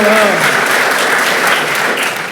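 Applause fills the hall at the Golden Apple Awards, a dense round of clapping that follows a trailing voice at the start and begins to fade toward the end.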